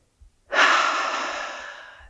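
A single long, close exhale during tai chi practice, a soft breathy rush that swells quickly and fades slowly over about a second and a half, alone in quiet.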